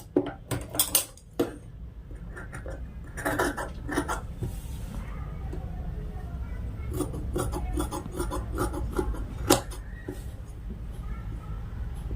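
Scissors cut blouse fabric around the armhole, giving a close run of crisp snips and rasping blade scrapes, some in quick clusters and others spaced out, over a low background hum.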